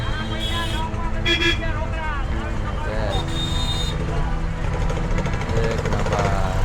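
Road traffic on the way from Rajkot to Junagadh, with engines rumbling and several car horns honking in short bursts, loud and near, while people talk throughout.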